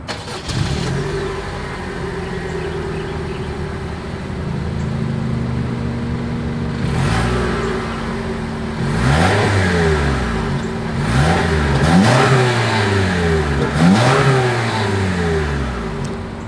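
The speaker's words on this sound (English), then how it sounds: "As always, here is that exhaust clip." A 2022 Toyota RAV4 XLE Premium engine revs through its dual exhaust, first idling after start-up and then rising and falling in several loud, sweeping revs close to the tailpipes.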